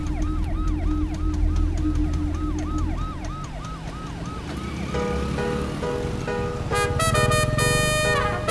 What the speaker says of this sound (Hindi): एम्बुलेंस को रास्ता दे,